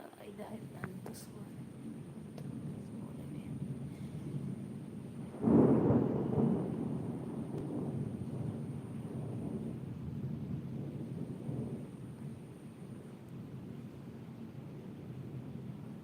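A sudden thunderstorm at two in the night brings a steady wash of rain noise, with one brief louder rumble of thunder partway through, and a voice speaks quietly over it.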